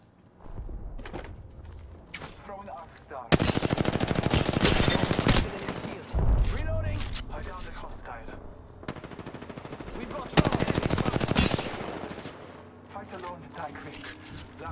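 Automatic gunfire from an Apex Legends ranked match comes in two long, loud sustained bursts, with scattered shots, mechanical clicks and footsteps between them and a voice talking over the action.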